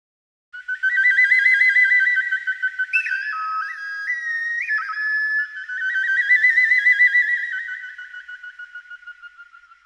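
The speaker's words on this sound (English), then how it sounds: "Bird whistles number 4." A sampled bird whistle instrument plays warbling trilled whistle tones that rise and fall, with a shifting middle passage before returning to a steady trill, clean and close with no background.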